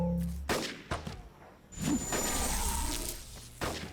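Gunfire in a fast-paced shooter video game where the player flies around shooting people: a few scattered sharp shots and impacts, fairly faint and spread across a busy game soundscape, with no talk.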